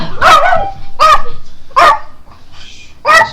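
A playful female dog barks and yips in four sharp bursts close to the microphone, with whiny tones and short pauses between barks.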